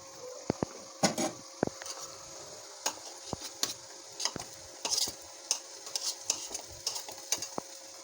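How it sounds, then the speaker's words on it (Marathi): Ginger garlic paste fries with onions in a pan for a Marathi-style paneer curry, a faint sizzle underneath as a spoon stirs in quick scraping strokes and clinks against the pan. There is no talk. "मी अद्रक लसूणची पेस्ट ॲड करून घेते"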